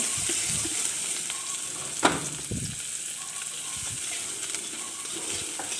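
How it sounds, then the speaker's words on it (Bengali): Onion dropped into a hot wok of oil for a soybean curry, sizzling loudly and steadily up close with a sharp crackle near the start and stirring scrapes throughout. "পেঁয়াজ দেওয়া হলো।"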